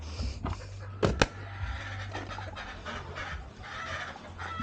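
Pullet hens cluck softly nearby, with a couple of sharper louder squawks early on, over a low background hum.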